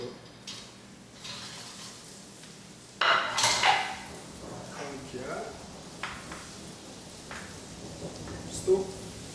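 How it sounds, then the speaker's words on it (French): Bananas dropped into hot melted butter in a pan, giving a sudden clattering sizzle burst around the three-second mark, followed by softer pan clinks and light frying while a person talks. "une fois que le beurre est fondu et chaud, on rajoute les bananes"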